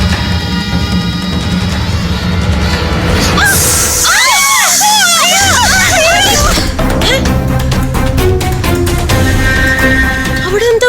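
Loud screams and shouts burst out during Vishu festivities with firecrackers, several high shrieking voices overlapping in the middle amid a noisy, crowded scene, followed by sharp clattering bangs.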